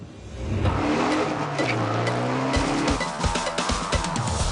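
Supercars race around a track, engines revving hard with rising and falling pitch as they accelerate and pass, tyres squealing briefly, loud and close with no talk.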